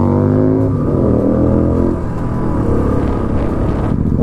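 Royal Enfield Interceptor and GT Continental 650 motorcycles produce a loud, deep rumbling exhaust note on a mountain road ride near Nainital, with throttle shifts heard up close.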